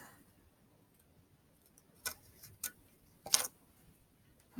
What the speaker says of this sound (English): now you just take your scissors and just cut off the extra tape